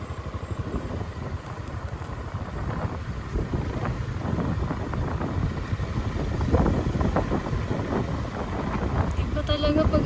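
A motorboat runs on the water at low tide, giving a steady engine drone mixed with heavy wind buffeting the microphone, continuous and close throughout.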